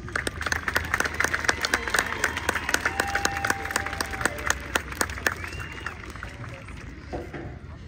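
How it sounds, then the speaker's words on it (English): Audience applause at a graduation ceremony, a crowd clapping in a dense burst that gradually thins and fades toward the end, heard from within the hall. "One more round of applause for our senior choir members."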